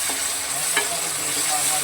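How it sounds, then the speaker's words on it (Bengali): Paneer curry being sautéed and stirred in a pan gives a steady sizzle of frying with soft scraping stirs, continuous and close, with no talking. "ভালো করে এটাকে আমি কষিয়ে নিচ্ছি।"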